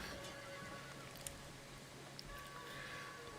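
Horse neighing at the horse breeders in Rome 2 Total War, a faint, brief whinny set in quiet ambient game noise with a couple of soft clicks, no talk.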